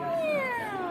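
A human voice imitates a cat's meow in one sliding, falling tone that is close, clear and alone, part of a singing exercise for moving from chest voice to head voice.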